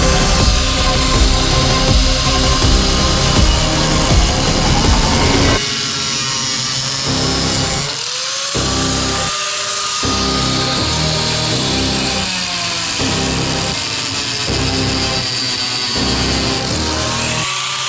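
A power tool drives self-tapping screws into plastic rails of an IBC tote shower, heard as loud whirring bursts, one long run followed by several shorter spurts with brief pauses between.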